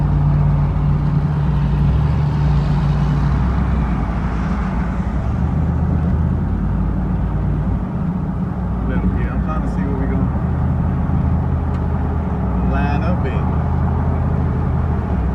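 An old Chevy truck races along, its engine a steady low rumble carrying throughout, with people talking over it now and then.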